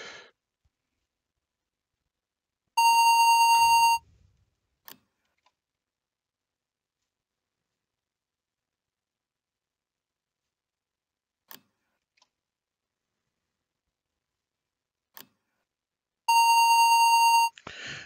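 A loud electronic beep alert sounds twice in the railway signalling game SIGNALSOFT, set at Köln Hbf. Each is a steady tone about a second long, far apart, with a few faint clicks and otherwise silence between.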